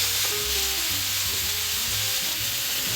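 A steak sizzles and spits steadily in a hot pan, close and continuous, with no talking over it.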